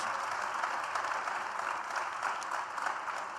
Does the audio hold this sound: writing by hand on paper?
no